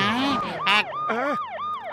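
A police vehicle siren in the Motu Patlu cartoon wails in quick, repeated rising-and-falling sweeps, loud and close, running continuously over the short stretch.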